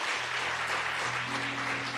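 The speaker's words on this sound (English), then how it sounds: "Let's give Grace another round of applause." A round of audience applause for a speaker at a faith and feminism rally, steady dense clapping from a crowd, fairly loud and even over a low droning hum.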